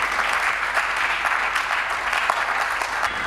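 A church congregation applauds in a steady, dense wash of clapping that runs the whole time, loud and close with no pauses.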